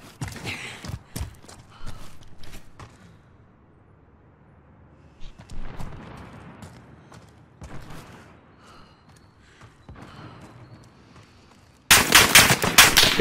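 Gunfire in Call of Duty: Warzone, with scattered shots and movement noises, then a loud sustained burst of automatic fire at the end.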